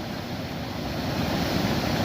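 Floodwater from a swollen river near the Dhenkanal and Jajpur border pours over a bridge in a steady, loud, broadband roar that slowly swells over the span, with no voices heard.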